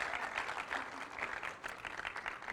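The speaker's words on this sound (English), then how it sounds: "Give her a round of applause for the dress." Audience applause at a live radio play performance: a continuous patter of clapping from a small crowd, moderately loud and even throughout, with no speech on top.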